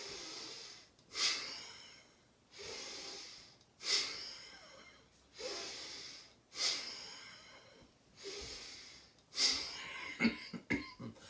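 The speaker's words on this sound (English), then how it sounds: "It should make you cough." Deliberate, forceful breaths repeat at a steady rhythm during breathwork, each ending in a sharp, airy burst, with quick coughs toward the end.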